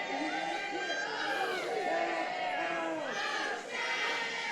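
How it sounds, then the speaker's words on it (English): A pro wrestling crowd cheers and shouts in a chant, many voices rising and falling together in a large hall, with a brief dip before the noise swells again. "The crowd comes to life."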